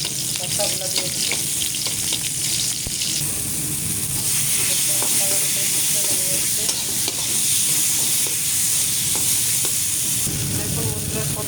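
Onion and bhorta mixture frying in mustard oil in a wok, loud sustained sizzling with constant stirring and scraping throughout, close up and unbroken.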